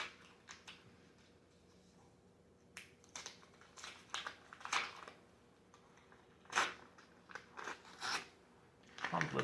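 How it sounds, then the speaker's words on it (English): A taped paper envelope being pulled and torn open: scattered dry crinkles, rips and tape snaps in irregular bursts, close and fairly soft, with brief pauses between. "Envelope's not coming open as cleanly as I thought it would."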